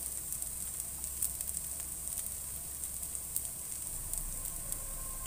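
Thin black-bean thosai batter spread in a round on a hot pan, sizzling in a steady, even hiss from start to finish, close and alone without talk.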